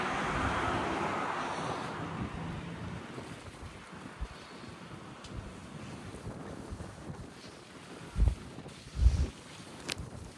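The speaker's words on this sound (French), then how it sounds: "on a un vent de sud" A south wind blows ahead of a storm, buffeting the microphone with loud rushing gusts that ease off, followed by a few low thumps near the end.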